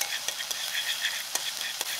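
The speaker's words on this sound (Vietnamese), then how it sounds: "Sau đó mình cho hành tỏi vào phi thơm." Shallots and garlic sizzle in lard inside a small clay pot, a steady close crackling hiss with occasional sharper pops and stirring scrapes, no talking.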